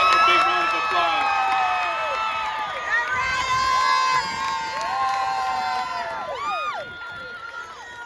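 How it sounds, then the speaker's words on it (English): A crowd at a high school graduation ceremony cheers and applauds, with loud whistles, shouts and clapping spread through a large space, staying dense for the whole stretch before easing slightly near the end. "let's give them a big round of applause"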